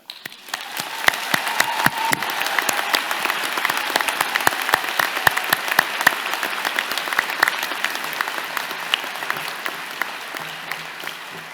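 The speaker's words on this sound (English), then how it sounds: "Let's have a round of applause for Mom and Dad." Applause for graduates' parents at a University of Toronto convocation ceremony, a large crowd clapping steadily at moderate distance with scattered sharper individual claps, sustained throughout.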